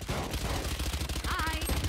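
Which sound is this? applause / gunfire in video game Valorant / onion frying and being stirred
gunfire in video game Valorant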